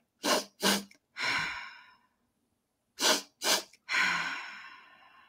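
Double inhale breathwork: two quick, sharp sniffing inhales followed by a long, sighing exhale, performed twice in a row, close and clear with no talking.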